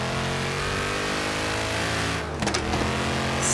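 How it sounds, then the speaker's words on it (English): A V8 engine in a racing simulator game revs hard and steadily with a dense, continuous roar, then briefly dips and surges again near the end, heard alone without talk. "Sound from this V8 though"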